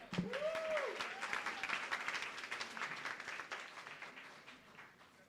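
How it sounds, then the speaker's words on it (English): An audience at a law faculty awards ceremony applauds in a faint, steady patter of many hands that slowly tapers off, with a brief vocal sound at the start. "A round of applause again."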